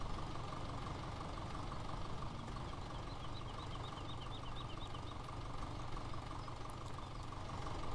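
A tractor engine idles steadily in Farming Simulator 17, a low continuous rumble with a faint high chirping overhead, no talk.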